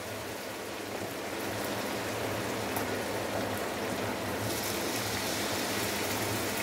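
Water pours steadily into a pot of mutton curry with masala, a continuous splashing hiss that runs for several seconds at moderate volume.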